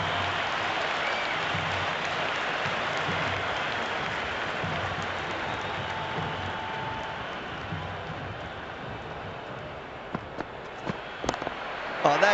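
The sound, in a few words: stadium crowd cheering in Cricket 26 video game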